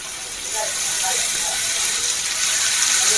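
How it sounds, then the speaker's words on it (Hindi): Garlic water pours into a hot pan of frying onions, and a rushing hiss swells up after a brief quieter moment and keeps going. "साथ ही साथ डालेंगे हम लहसुन का पानी"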